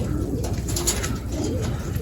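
Racing pigeons cooing at the loft after a training flight, soft repeated low coos close by over a dense, constant background of other birds.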